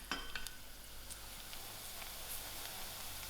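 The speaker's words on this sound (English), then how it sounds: "I'll allow these onions to fry till soft." Onions fry in a pan with a faint, even hiss close by, and a few light clinks come near the start.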